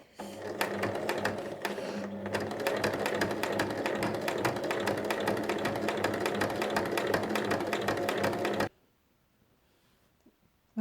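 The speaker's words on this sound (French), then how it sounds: "on va piquer donc tout le tour à 1 mm" A sewing machine runs steadily for about nine seconds, stitching all the way around a fabric glasses case 1 mm from the edge, then stops abruptly and leaves near silence.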